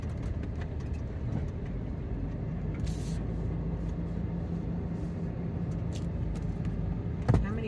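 A car rolls along at low speed toward a house at a small vineyard, giving a steady engine and road rumble from inside the vehicle with occasional light rattles and a brief knock near the end.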